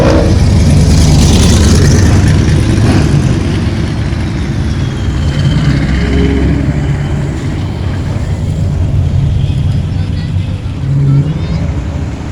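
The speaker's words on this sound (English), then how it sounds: "You hear that exhaust?" A classic muscle car's exhaust rumbles and revs loudly and continuously at close range, a deep steady engine roar filling the street at a car show.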